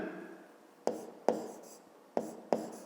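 A pen writes numbers on paper during a fifth-grade maths exercise, giving four sharp, close scratching strokes spaced apart over a faint background.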